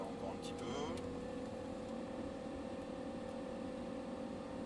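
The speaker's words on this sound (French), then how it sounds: "continue, on accélère encore un petit peu" An Audi R8 engine drones steadily at moderate revs in a race circuit pit lane, a sustained even hum with a brief rising whine near the start, heard from inside the car.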